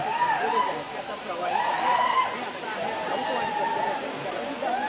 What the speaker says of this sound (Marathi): कोल्हापूर जिल्ह्यातल्या राधानगरी तालुक्यातील राऊतवाडीचा हा धबधबा आहे